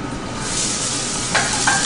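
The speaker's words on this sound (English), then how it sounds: "A little bit of very good quality extra virgin olive oil. We're going to add a little bit of onions." Onions sizzle in extra virgin olive oil in a hot pan, a loud, close, continuous hiss with a couple of brief stirring scrapes near the end.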